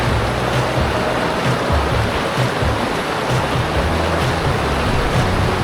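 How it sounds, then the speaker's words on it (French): A hot-water river in Akureyri, Iceland, flowing in a steady, dense rush of water that stays loud and close for the whole stretch, with no talking over it. "Ceci est une rivière d'eau chaude."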